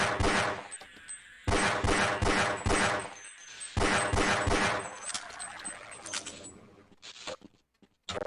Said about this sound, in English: you can just easily deal with them with the pistol